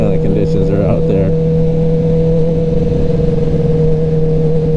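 A 2021 Kawasaki ZX-10R sport bike cruising on an expressway, its engine holding a steady, loud drone with wind rush throughout, with a voice talking over it briefly at the start.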